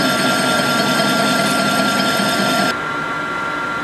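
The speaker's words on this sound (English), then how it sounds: "Now I'm going to take 1 final cut just to remove the last bit of rust off here." Steady, loud machining drone from a metal lathe taking a cut on rusty steel pipe in a workshop, running continuously before dropping to a quieter hum near the end.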